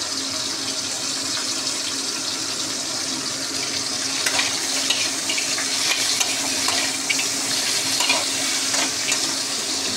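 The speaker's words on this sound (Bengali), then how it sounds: "রেডি হয়ে গেল আমার শাক ভাজা, লাল শাক ভাজা একদম রেডি" Red amaranth greens (lal shak) are stir-fried in a hot pan, with a loud, constant close-up sizzle broken by scattered clinks and scrapes of stirring.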